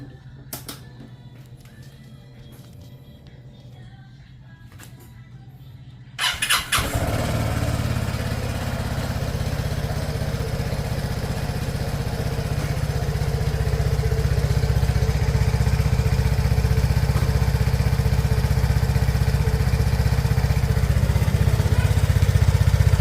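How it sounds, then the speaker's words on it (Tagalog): A Vespa Primavera S 150 scooter with its stock exhaust idles at first, then revs up abruptly and holds a steady, loud engine drone close by until the end. "Ito yung tunog ng stock exhaust natin."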